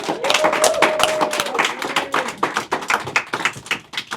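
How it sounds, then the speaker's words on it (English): Audience clapping at a Howard University interview event, a steady patter of many hands with dense, irregular claps, fairly close and loud, fading into scattered claps toward the end. "Can you clap it up one more time?"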